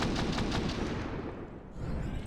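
Gunfire from an esports shooter match, NAVI versus BIG at a BLAST event: dense, loud bursts of shots close together early on, easing into a steady rumble of continued fire with no talk over it.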